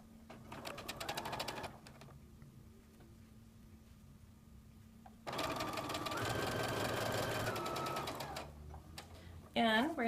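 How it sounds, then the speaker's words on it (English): A sewing machine stitches quilt pieces together in two bursts of steady rapid whirring, the second longer, with quieter gaps and a spoken voice around it. "So now we're going to sew our spoon and our small bowl together."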